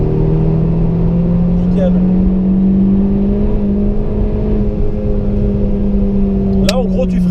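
A race car on the Nürburgring holds a steady, loud engine drone that climbs slightly in pitch as it accelerates, with a person talking over it throughout.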